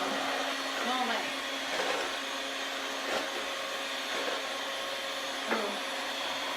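An electric whisk whips dalgona coffee, giving a steady, loud motor whine that holds throughout with small bumps and scrapes as the beaters touch the bowl. No one talks.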